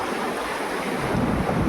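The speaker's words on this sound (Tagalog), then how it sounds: "Pasok dun yung alon." Ocean waves surge and wash beneath a damaged, cracking seawall in a steady, rushing roar with wind buffeting the microphone and no voices.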